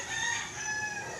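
A three-year-old White Kelso rooster crows in a backyard, one sustained strained call with bright harmonic tones running the full length, fairly close and clear against quiet surroundings.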